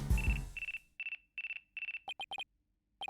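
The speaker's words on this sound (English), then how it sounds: "It looks like I have a phone call." A telephone rings in the video game Phoenix Wright: Ace Attorney - Dual Destinies, a series of bright electronic trills in quick repeated bursts following a brief low rumble, clear and alone without talk.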